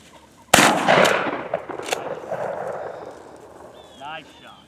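A loud, close shotgun blast at a flushed pheasant during an upland bird hunt, followed by a second sharper report about a second later and fading outdoor ambience, with a voice speaking briefly near the end.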